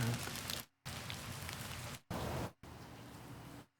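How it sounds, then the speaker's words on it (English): Rain sound sample layered into a lo-fi hip-hop beat: steady soft hiss of rainfall on a surface, fairly quiet, in several segments separated by brief silent gaps. "Let's add rain."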